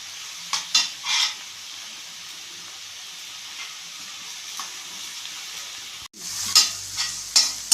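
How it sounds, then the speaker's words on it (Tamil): Continuous soft sizzle of onions and vegetables sautéing in a pan for wheat rava upma, with occasional scraping stirs, then a louder burst of sizzling and stirring near the end. "நல்லா வதங்கட்டும்"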